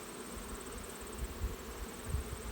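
A crowd of honey bees buzzes steadily around an open beehive while cells are placed into new splits, a continuous close-up drone with no talking.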